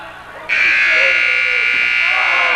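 A gym buzzer at a boys' varsity basketball game between West Rutland and Twin Valley sounds one long, loud, steady electronic blast ending a quarter, under faint crowd noise.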